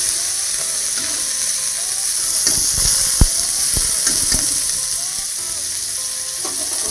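Broiler chicken fries in a pan with a loud, continuous hiss, while a spatula stirs and turns the pieces, adding a cluster of sharp clacks and scrapes near the middle.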